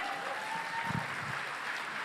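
Applause from an audience at an Amway presentation in Indonesia, a soft distant wash of clapping with a few low thumps, fairly quiet.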